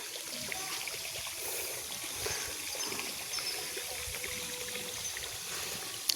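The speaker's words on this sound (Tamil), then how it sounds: "தென்னை மரத்துக்கு பாத்தி வட்ட வட்டமாக பாத்தி கட்டி தண்ணி விட்றோம் ட்ரிப் மூலமாக" Water from a drip irrigation line trickles into circular basins around coconut trees on a natural farm, a soft steady outdoor flow with faint background noise and no talking.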